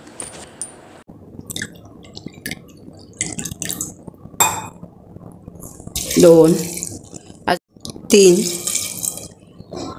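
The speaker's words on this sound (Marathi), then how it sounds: "आपण 3 वाट्या पाणी घातलेलं आहे।" Water splashes and pours into a metal pressure cooker in bursts, three measured cups, with clinks and kitchen handling noises between pours.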